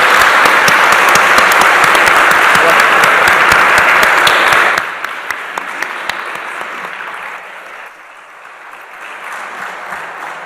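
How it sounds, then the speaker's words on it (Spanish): An audience at a university summer school opening gives loud, dense applause that runs steadily for several seconds, then thins into scattered claps and fades away. "les pido un aplauso para ustedes,"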